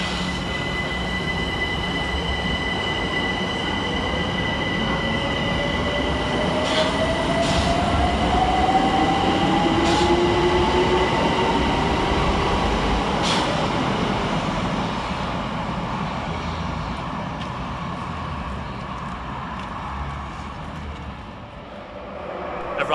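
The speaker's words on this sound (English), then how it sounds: "Over on the far side sees the departure of 378216 working the 1418 London Overground service from New Cross to Dalston Junction." A London Overground Class 378 electric train pulls away from Surrey Quays station on the far platform, a steady rolling rumble with rising motor whine and faint wheel squeal, fading slightly toward the end.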